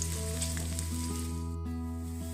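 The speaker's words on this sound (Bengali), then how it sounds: "পেঁয়াজটা আমরা একটু লাল করে ভেজে নিব।" Chopped onions sizzle in a pan, frying until reddish for a dried-fish curry with taro stolons and jackfruit seeds, a steady close hiss with a constant low hum underneath and no voices.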